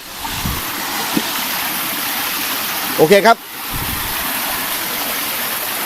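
Chan Sian waterfall in Bang Phra, Si Racha, Chonburi, Thailand: steady broadband rush of flowing water throughout, with someone briefly speaking partway through.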